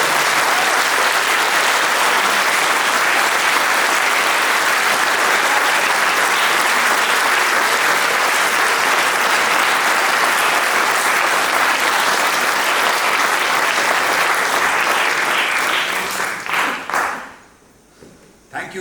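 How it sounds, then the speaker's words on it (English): An amateur dramatics club audience at the Gaiety theatre in Simla applauds after a play, long dense clapping that holds steady, then tapers and stops near the end, leaving brief quiet. "can we have a loud applause?"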